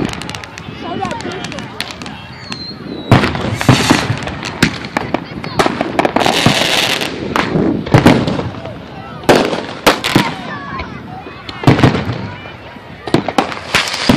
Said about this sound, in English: You done popped all your other firecrackers.